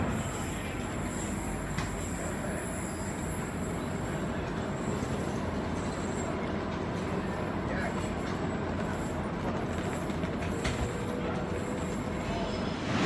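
Train noise on a platform at Coburg Street railway station in Brisbane, with a steady loud rumble of rolling railcars and faint wheel squeal running throughout, plus a few brief metallic clicks.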